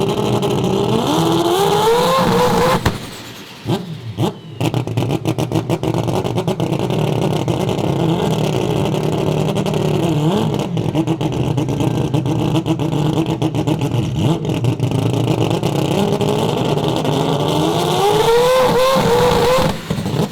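An all-wheel-drive four-rotor car on two-step launch control, the engine loud and close, revving hard and holding against the limiter with rapid popping stutter, with a brief dip before the revs climb again and rise near the end.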